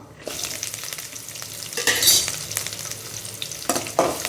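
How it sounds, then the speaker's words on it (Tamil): Onions sizzle and crackle in a hot pan, with occasional scraping and stirring sounds over the steady frying hiss. "நல்லா வெங்காயம் சேர்த்துக்கிட்டு நல்லா வதக்கி விட்டுக்கலாம்"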